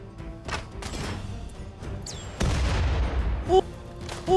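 Rocket launcher blasts and booms during a RimWorld video game raid battle: several loud bursts, a heavy crash around midway followed by sustained rumbling and further sharp pops near the end.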